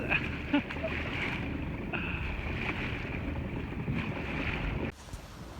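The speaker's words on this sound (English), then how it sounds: "We're cruising along at 5 knots under double reefed main." A sailboat cruising at about five knots under a double reefed mainsail on an ocean passage from Panama to the Galapagos, with constant wind buffeting and rushing water around the hull until a sudden drop near the end.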